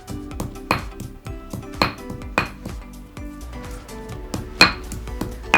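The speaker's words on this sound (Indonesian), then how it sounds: "ditumbuk kayak gini ya teman-teman ya, tumbuk kayak gini" Kencur (aromatic ginger) is pounded in a mortar with steady, evenly spaced thuds, each carrying a slight ringing clink, alongside smaller taps and scraping in between.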